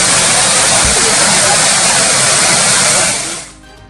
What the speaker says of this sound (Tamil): விடுமுறையை கொண்டாட கொடைக்கானலில் குவிந்த சுற்றுலா பயணிகள். பாம்பாறு அருவி முன்பாக புகைப்படம் எடுத்து உற்சாகம்.